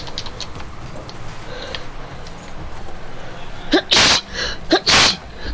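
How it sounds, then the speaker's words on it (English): A person sneezes twice in quick succession, two sharp loud bursts close to the mic over quiet background clicks and room noise. "God, that was like a double sneeze right there."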